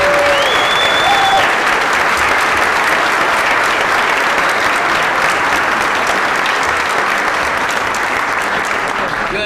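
Loud, dense applause from an audience at a Dominion Club event rolls on continuously as a wife is honoured, a constant roar of clapping hands with a brief whistle near the start.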